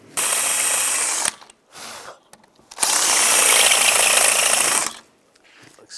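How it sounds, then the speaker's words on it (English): A power drill whines at high speed in two long bursts, drilling out the top of a door hinge pin on a 2007-2013 Chevrolet Silverado 1500, with a brief mechanical rattle between them. "just drill the top of this out"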